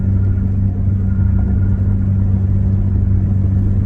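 A 2024 Nissan Frontier pickup with a custom equal-length exhaust and muffler runs close by, a loud, deep, steady engine rumble without talk.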